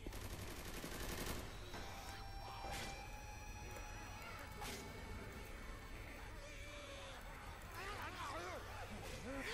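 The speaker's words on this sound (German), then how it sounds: "Ich habe auf dich geschossen, um dich zu retten" Rapid gunfire in Left 4 Dead 2 zombie combat, a dense rattling burst of shots at the start and then scattered sharp reports over constant game noise, with game creature cries and speech mixed in.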